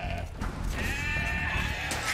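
Sheep bleating in Age of Empires 2, a wavering nasal cry that rises midway and holds over steady game background noise, loud and close, with no talking.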